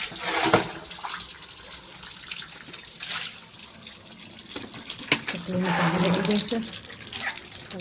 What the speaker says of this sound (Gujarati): સવારમાં ચોક ધોવાનું ચાલુ કરી દીધું છે મેં.